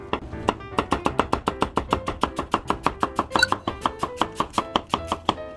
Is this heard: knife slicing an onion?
yes